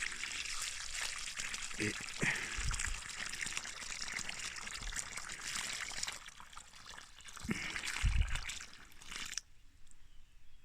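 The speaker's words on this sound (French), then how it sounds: "Là, je prends mon arrosoir" A watering can pours a steady trickle of water onto vegetable garden plants, a continuous splashing stream that swells near the end before cutting off, with a brief spoken word.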